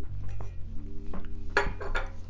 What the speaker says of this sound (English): we'll use our big spoon to take the berry pulp out of the pan